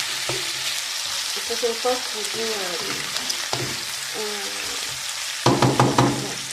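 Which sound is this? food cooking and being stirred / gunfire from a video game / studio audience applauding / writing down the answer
food cooking and being stirred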